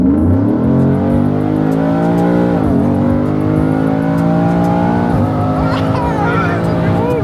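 Tuned Ford F150 pickup truck accelerating, a loud engine roar heard from inside that rises in pitch, eases at a gear change, then climbs again, with voices faintly underneath.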